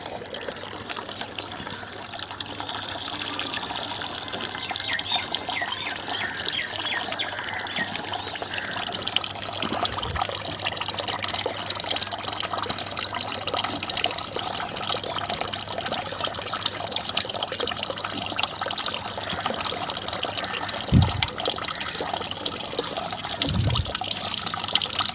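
Water flowing from a gas geyser after its pipes were cleaned with acid, a strong continuous gushing stream that runs steadily and close throughout, with a couple of brief knocks near the end.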